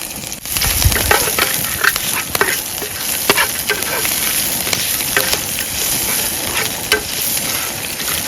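Chilies hit a hot pan while cooking at a forest night campsite and fry with a loud, steady sizzle, scattered pops and crackles running through the whole stretch.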